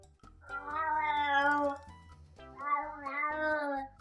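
A cat meows in two long, wavering, voice-like phrases that rise and fall almost like spoken words, close and clear with little else around.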